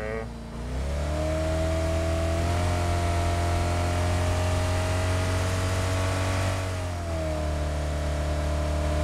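Golden Mirado car in the PUBG video game on the Miramar map, its engine revving hard and holding a high steady pitch for several seconds, easing briefly before climbing again, loud and close.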